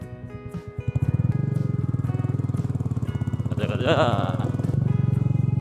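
A Royal Enfield Meteor classic motorcycle thumps loudly up a rocky off-road mountain trail, its single-cylinder engine pulsing steadily and rising under load, with a brief spoken word over it.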